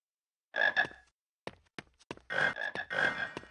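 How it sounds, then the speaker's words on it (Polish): Frogs croak in a Harry Potter and the Philosopher's Stone video game, several bursts of loud, close croaking with a short pause between them. "Kurde, ile żab."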